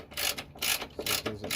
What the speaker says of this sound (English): Tighten up this bracket for the battery